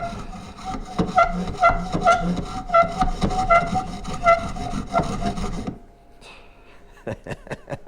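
The serrated saw-tooth spine of a Harbor Freight survival knife saws back and forth through pine wood in quick rasping strokes for several seconds, then stops, followed by a few faint clicks and scrapes.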